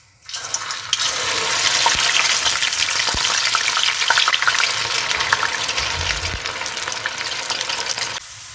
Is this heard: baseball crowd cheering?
no